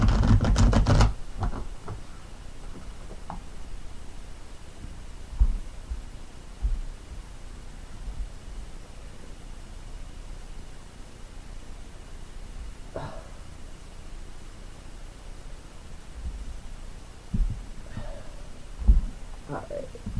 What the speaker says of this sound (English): let's shuffle these cards real quick